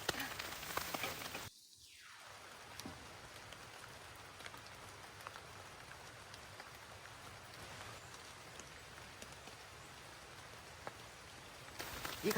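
Steady rain falls at a campsite during solo camping, a constant soft patter of drops on surfaces with a few louder taps, continuous and fairly quiet with no talking.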